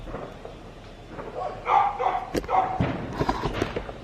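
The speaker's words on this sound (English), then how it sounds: "Can you guys hear the dogs? The dogs are going crazy." Dogs bark in an agitated burst partway through, fairly near, reacting to fireworks, mixed with thumps and background commotion.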